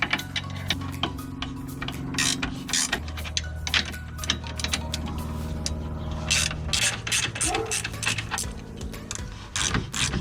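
Rapid ratchet wrench clicking and mechanical ratcheting as a 19 mm bolt is removed during a Lexus coilover strut install, with steady bursts of ticks over a low tonal hum, fairly close and continuous.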